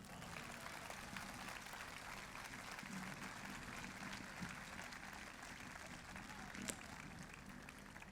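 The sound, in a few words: audience applause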